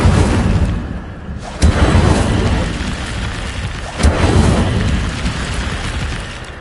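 Incendio, a fire spell in Hogwarts Legacy, goes off as loud booming bursts, with two sharp blasts that each roll into a dense, roaring rumble of fire.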